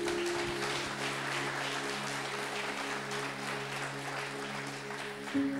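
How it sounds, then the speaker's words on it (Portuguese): A church congregation's applause rises as a soft, distant patter of many hands, steady throughout over a low electrical hum, with a brief tonal shift near the end. "Aplauda Jesus essa noite."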